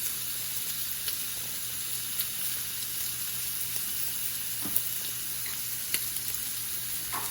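Food for a brunch sizzles and fries in a pan with a constant bright hiss. Faint clicks and pops come through now and then, with no talking.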